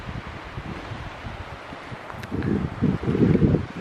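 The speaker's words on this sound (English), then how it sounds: "Lots of wind." Gusty wind sweeping through an April wilderness in the North Absaroka backcountry along a game trail, a steady rushing buffet that swells louder in bursts toward the end, with faint rustling underneath.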